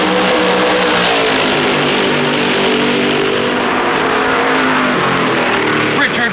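Stock cars at the 1964 Southern 500 at Darlington roar past in a loud, sustained engine drone, the pack holding a continuous blare with a slight rise near the end.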